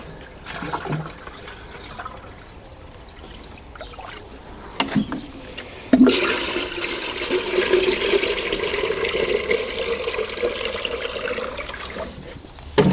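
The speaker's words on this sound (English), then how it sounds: "as you pour the water in, it mixes it" Collected rainwater pouring into a watering can in a vegetable plot, a quiet trickle at first, then a steady, fuller gushing pour that runs continuously for several seconds.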